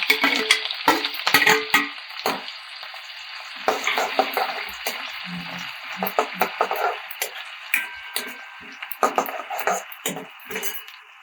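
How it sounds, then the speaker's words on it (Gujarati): Finely chopped onion goes into hot oil for a village-style amaranth greens dish, setting off a loud burst of crackling sizzle followed by uneven spurts and scrapes of stirring, close-up with no voices. "મીડિયમ ડુંગળી ઝીણી સમારીને લીધી છે અને એડ કરી દઈશું."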